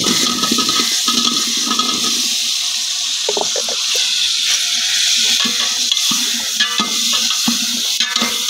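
Potatoes and spices frying in a pan in a home kitchen: a loud, steady hiss and sizzle with occasional stirring scrapes and clatters, up close and without talk.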